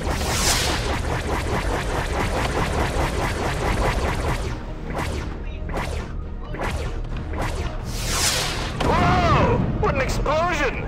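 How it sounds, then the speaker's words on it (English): Explosions and weapon fire from the space combat game Space Commander, with loud repeated blasts, whooshing bursts and crashing booms packed densely across the clip, a strong detonation rising near the end. "Whoa! What an explosion!"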